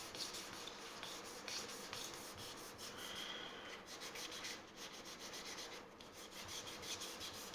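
Steady close rubbing rasp of 800-grit sandpaper worked over a handmade electric bass guitar body, continuous with slight rhythmic strokes and no talk.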